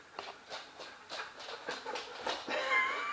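Lola, a dog, whimpers in a series of short high whines and yips, close and fairly clear, growing more insistent toward the end, with no talking.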